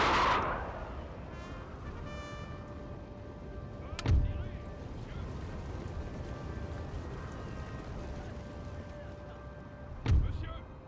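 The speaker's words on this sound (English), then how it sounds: "Your cannon can do a heck of a lot, particularly going into that canister." Cannons fire at the Battle of Waterloo in Napoleon: Total War. Two heavy booms come roughly six seconds apart, over a steady hum of battle ambience and faint voices in the background.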